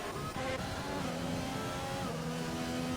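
Race cars circulating behind a safety car in an online Azerbaijan round, engines droning steadily at a close distance with a continuous, even roar and faint tyre noise.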